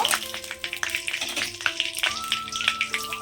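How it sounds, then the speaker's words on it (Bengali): Bay leaf, dry chili and panch phoron spices crackle in hot oil in a pan, with uneven pops and a sputtering sizzle, close and fairly loud, plus a few clinks from a utensil. "প্রথমে দিলাম তেজপাতা শুকনো লঙ্কা আর পাঁচ ফোড়ন ফোড়নে"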